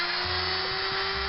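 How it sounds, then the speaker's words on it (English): A small drill bores into the plastic of a Hornby Bulleid Pacific model locomotive piston block held in a vice, giving a faint, steady whir over a constant hum. "it's held in with a screw and my vice, so I can drill one side"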